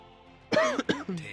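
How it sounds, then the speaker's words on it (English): Someone commentating a Dota 2 match coughs close to the mic in a short fit of three or four harsh bursts. "Sorry, bit of a coughing fit at the end of it there."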